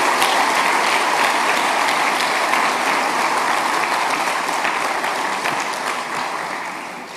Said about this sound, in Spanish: ¿Puede darle un aplauso de alabanza al Señor?